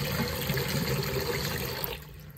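Strong, steady rush of water from a Moen Genta bathroom faucet with the flow restrictor removed, close and loud, cutting off near the end.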